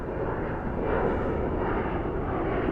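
Aircraft engine roar at Dallas/Fort Worth airport at night, a steady, loud broadband rumble sustained throughout with no pauses.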